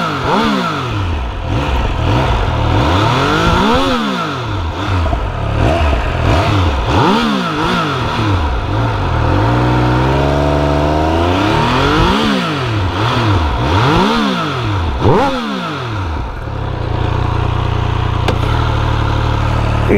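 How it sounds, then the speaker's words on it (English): A Triumph Speed Triple 1200 RS motorcycle exhaust revs up and down repeatedly, sharp throttle blips rising and falling, then settles into a rumbling idle; loud and close. "Let's listen to that exhaust."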